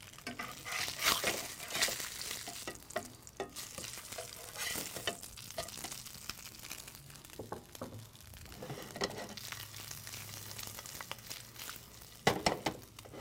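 Slices of polenta searing in a hot pan, a close, continuous crackling sizzle with shifting intensity, occasional utensil scrapes and a louder burst of spitting near the end.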